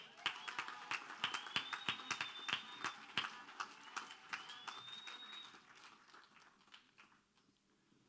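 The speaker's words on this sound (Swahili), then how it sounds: "Jipigeni makofi." Scattered applause from an audience at a church planting college address, a loose patter of claps with no talk, thinning and fading out toward the end.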